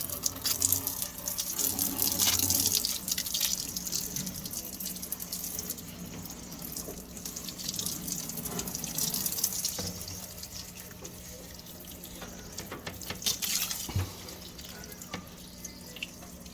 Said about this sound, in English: the next thing I'm gonna do is spray down the sides